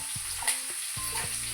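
Onions frying in a pan until translucent, a steady close sizzle with a few soft knocks and stirring sounds, with no one talking.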